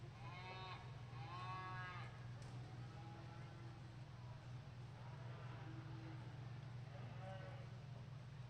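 February-born beef heifers at a cattle show let out several drawn-out moos, some near and some farther off, over a constant low hum from the show barn.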